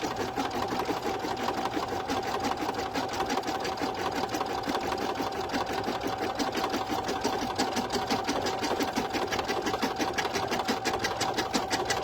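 An embroidery machine stitches an in-the-hoop bow, its needle hammering in a rapid, even rhythm up close, steady and uninterrupted from start to finish.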